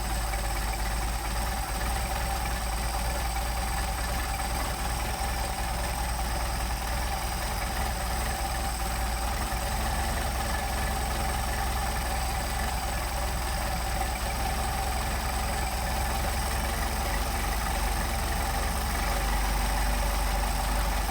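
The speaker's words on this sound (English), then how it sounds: "Now we're going to bump the idle back up to where it belongs, about 700." A Mercedes 190SL engine fitted with Solex 44PHH carburetors idles steadily and evenly for the whole stretch, a close, continuous low mechanical hum with no talking.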